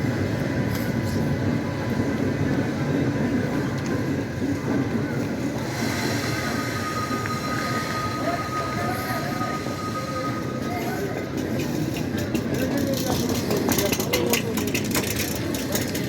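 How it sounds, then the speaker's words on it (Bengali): The Howrah to Mumbai CSMT Mumbai Mail rolls along with a continuous loud rumble and rattle of wheels on track, heard steadily throughout from on board. "ট্রেনটা হলো হাওড়া থেকে মুম্বাই CSMT-গামী মুম্বাই মেল।"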